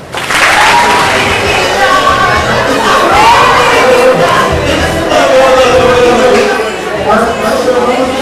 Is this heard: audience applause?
yes